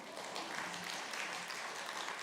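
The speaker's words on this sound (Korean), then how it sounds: "이럴 때 박수가 나오는 거죠." Faint, distant applause from a church congregation during a Sunday sermon, a steady wash of clapping hands throughout.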